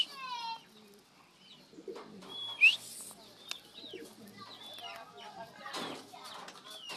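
Racing pigeons cooing and fluttering as they arrive at the loft after a race, soft bird calls scattered among quiet background sounds and brief people's voices.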